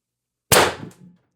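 A single sharp airsoft shot from an X-68 Punisher rifle running on HPA at 1,000 psi through an MCS ASA, fitted with a 50mm long 1.8mm wire spring and 22mm OD bolt spring: one loud crack with a short decaying tail, alone in silence.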